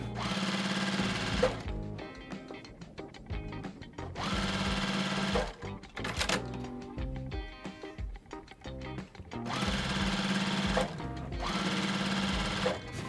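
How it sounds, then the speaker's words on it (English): A sewing machine stitches quilt block rows with right sides together, running in loud bursts of rapid needle hammering separated by short pauses, close up throughout with no talking. "we're gonna go ahead and sew this all up, right sides together, all the way down"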